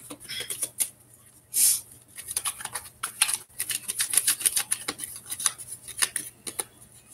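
Tarot cards are pulled and shuffled by hand, giving soft scattered slaps, flicks and riffles in irregular bursts, close and fairly quiet with no talking.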